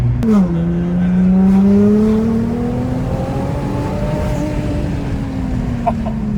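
A Nissan GT-R sports car weighing nearly 1.8 tonnes is driven hard and then braked, its engine note rising and falling in a steady loud drone with changing pitch and no voices over it.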